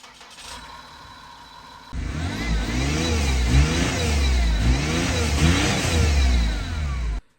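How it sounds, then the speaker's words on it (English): A Citroen C6 engine starts and runs steadily, with a harsh, cyclic mechanical whirring and grinding from a pulley layered over the idle, close and loud throughout. "one of them is causing a horrible mechanical whirring sound"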